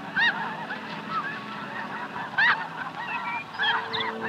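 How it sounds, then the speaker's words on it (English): Snow geese honk around a small lake-country nesting island, with several loud, nasal calls in short bursts over a quieter background of more distant honking and bird chatter. "These snow geese are among the first to arrive,"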